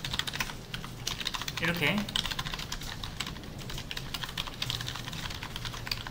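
Quick, steady typing on a computer keyboard while entering letters during a web coding lesson, close and continuous, with a brief spoken word partway through.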